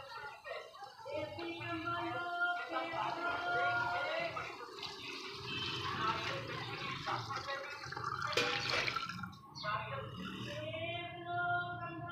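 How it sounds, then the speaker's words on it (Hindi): Beef stock pours and splashes into a cooking pot of beef trotters for several seconds, with gurgling and sizzling, a brief louder splash near the end. "अब इसकी यखनी डाल दिया"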